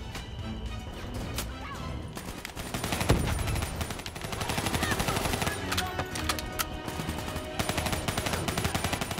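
Rapid bursts of gunfire from the video game Black Ops 3, dense and continuous with sharp cracks, loud throughout with game action layered around them.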